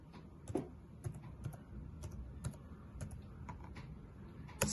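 Steady typing on a laptop keyboard, soft close key clicks in an irregular rhythm over a low background hum, with no talk.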